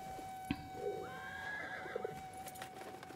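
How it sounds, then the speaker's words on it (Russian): A horse in the video game Battlefield 1, set in a desert, gives a long, wavering neigh while hooves clip-clop, all at moderate volume over a steady game hum with no talk. "Моя лошадь опять ко мне прискакала."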